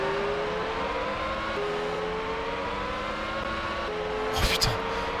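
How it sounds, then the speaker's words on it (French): A race car in the Formula One PS1 video game drives into the pit lane, its engine droning steadily with rising and shifting tones, followed by a brief burst of noise near the end. "Et ça rentre les stands."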